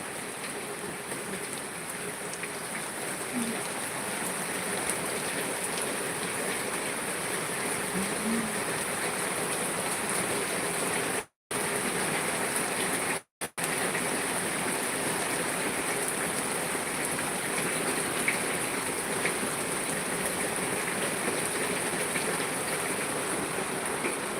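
Heavy coastal monsoon rain that has poured for a full day pours down as a dense, continuous roar, broken only by two very brief dropouts, with no voices.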